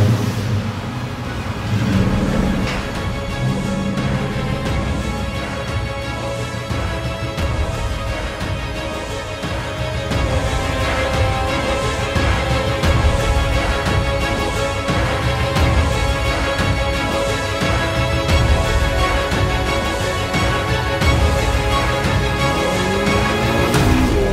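A Ford Mustang project car drives down the road, its engine and road noise a steady, loud drone from inside the cabin with no break throughout.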